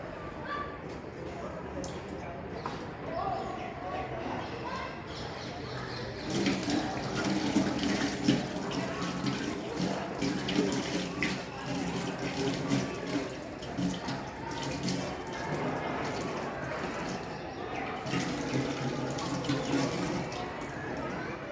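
Water is splashed gently onto the eyes from cupped hands over a running tap, giving repeated soft splashes over a steady flow that grows louder partway through, while someone talks throughout.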